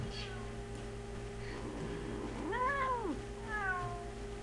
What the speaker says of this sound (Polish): Kot nic, niby zwykły kotek, a wiesz to pocieszne.